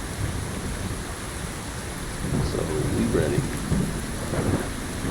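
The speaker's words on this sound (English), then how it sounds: "Let's get out of the rain." Steady rain and a low rumble of thunder fill a storm in modded Fallout, with a brief spoken line over the downpour.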